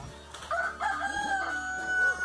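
A rooster crows in a video game, a single drawn-out, wavering cock-a-doodle-doo heard clearly over a steady low hum.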